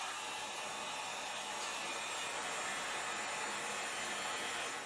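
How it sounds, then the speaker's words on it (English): A heat gun blows hot air onto a wiper linkage bushing on an EF Civic, giving a steady, even, close whooshing roar that holds constant for several seconds with no talk. "Can I get a heat gun?"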